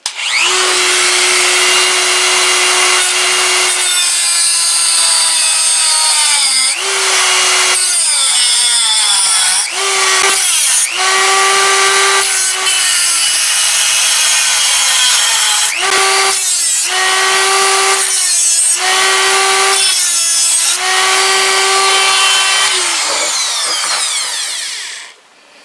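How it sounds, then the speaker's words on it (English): A Dremel rotary tool grinds through sheet metal on a 1948 Ford sedan body to cut an opening for tail light wiring. A loud, close, high-pitched whine runs in long passes that stop and restart repeatedly. "And Dremel some more."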